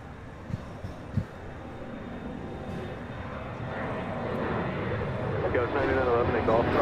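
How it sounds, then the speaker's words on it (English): A British Airways Boeing 777-200ER arriving from London Heathrow at LAX, a broad engine roar that swells slowly from moderate to louder as it nears, with some faint background noise early on. "This is Speedbird, the 777-200ER, coming in from London Heathrow."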